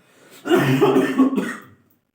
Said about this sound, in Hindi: खांसी हुई